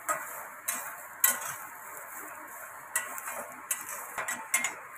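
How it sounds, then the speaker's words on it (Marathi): Onion and grated coconut dry-roast with cumin in a pan, a soft crackling sizzle broken by a series of light, irregular taps and scrapes from the stirring spoon. "अशा पद्धतीनं भाजायचं आपला कांदा खोबरं"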